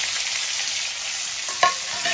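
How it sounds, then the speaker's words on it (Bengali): Chopped onion and tomato hit hot oil with tempered spices in a pan of palak and prawns, giving a steady close sizzle and fry hiss with a brief stirring clatter near the end. "এবার আমি কেটে রাখা পেঁয়াজ আর টমেটোটা একসঙ্গেই দিয়ে দেব"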